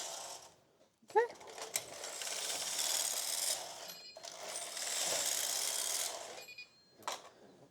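A knitting machine's needles are reset by sliding a carriage across the bed, producing two long raspy ratcheting passes with clicks and short mechanical knocks in between, close and fairly quiet.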